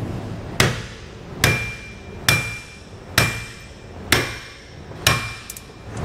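Hammer blows driving a bolt out of a tandem-axle trailer equalizer with a nut left on its end, six loud, evenly spaced metallic strikes, each ringing briefly, close by with no talk.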